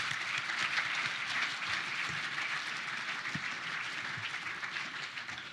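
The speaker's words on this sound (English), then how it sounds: "A big round of applause for you." At a 2019 NAB League best-and-fairest football awards night, an audience applauds for about five seconds in a steady, moderately loud crowd clap with a few scattered louder hand claps.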